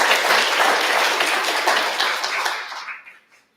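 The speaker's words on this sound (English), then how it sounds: "So we can all just give a round of applause to them." A round of applause for student researchers at an undergraduate research symposium, dense clapping from the audience that fades out toward the end.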